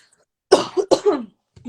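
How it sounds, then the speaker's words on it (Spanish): Two quick, close coughs from one person, sharp and dry, in an otherwise quiet indoor setting during a conversation. "Ahí está tos todavía."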